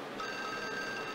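A telephone rings inside the Clock Tower video game as a brief steady electronic trill, heard alone with no voices.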